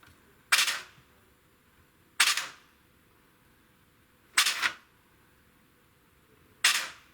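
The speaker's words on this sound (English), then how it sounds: "we've got spinning gears with obviously no movement of the piston whatsoever" A Tokyo Marui SGR12 AES airsoft gun gearbox spins its gears with no piston movement during test firing, four short, sharp mechanical bursts spaced a couple of seconds apart in a quiet room.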